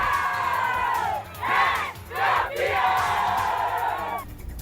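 A football crowd cheers at a friendly veterans' match between Flamengo and Sampaio Corrêa, with loud sustained roaring voices rising in two strong surges, then holding steady throughout.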